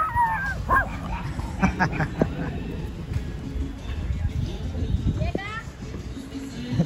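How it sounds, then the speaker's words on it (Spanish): Several dogs yip and bark intermittently outdoors on a beach at Guayanilla, with a whimper or two, while a person talks over them and footsteps crunch. "Ahí van los perritos."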